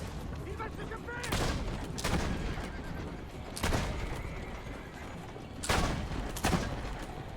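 Gunfire from a machine gun in the Assassin's Creed Brotherhood video game, heard as about five loud, broad bursts spaced irregularly over a steady background din with horse sounds.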